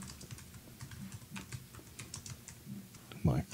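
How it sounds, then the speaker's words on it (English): Computer keyboard typing while entering a school name as text in Adobe Illustrator: a steady run of light, quick key clicks at close range, ending in a slightly louder clack, with no talk over it. "I'm going to type in"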